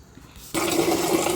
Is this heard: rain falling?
no